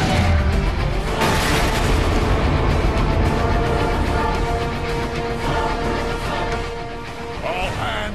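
Sustained heavy weapons fire and booming explosions in the video game Transformers Fall of Cybertron, aimed at tow cables, a dense loud barrage of blasts and rumble throughout, with voices talking underneath.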